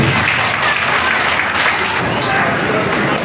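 An audience at a student medal and felicitation ceremony claps, producing dense, steady applause that fills the hall evenly from start to end.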